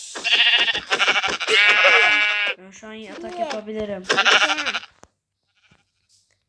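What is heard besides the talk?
sheep bleating in Minecraft video game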